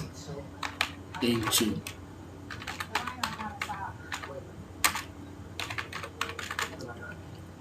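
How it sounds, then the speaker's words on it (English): Typing on a computer keyboard while entering SQL Server records: irregular bursts of close, crisp key clicks and clacks, interleaved with a man's speech throughout. "let's start and type insert"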